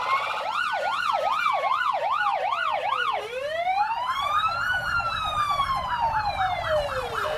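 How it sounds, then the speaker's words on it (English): Emergency vehicle sirens, including traffic department units, wail loudly: a fast yelp cycles repeatedly, then shifts to slower rising and falling wails over steady road noise. "These are the emergency sirens that we need to adhere to."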